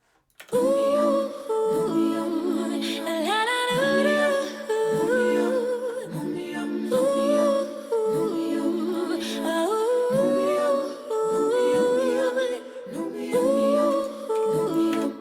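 A stereo doubler effect widens a full musical mix of layered chords and melody, playing steadily and loudly throughout with no voices.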